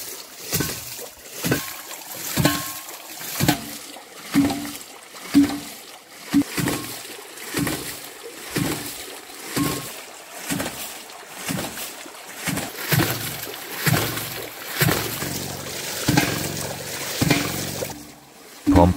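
A water-powered hydraulic ram irrigation pump thumps and splashes in a steady rhythm, its regular gushing beats about once a second over the sound of flowing water.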